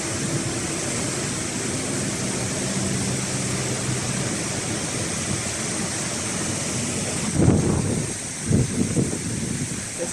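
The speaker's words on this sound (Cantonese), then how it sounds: "其實我企喺呢度好大風，變咗好凍" Strong wind and rushing water of the Capilano River beside a salmon hatchery: a steady, loud roar of flowing water mixed with wind noise buffeting the microphone, with brief heavier gusts near the end.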